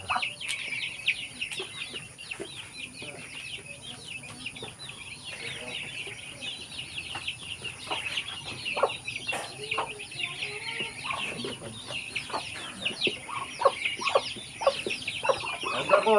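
A flock of free-range chickens on a farm in the Philippine countryside cluck and chatter continuously close by, with soft individual calls layered over a busy background and occasional voices.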